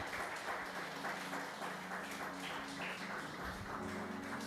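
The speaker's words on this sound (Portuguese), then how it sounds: "Aplauda Ele mais uma vez" Steady applause from a church congregation, many hands clapping continuously at a moderate distance.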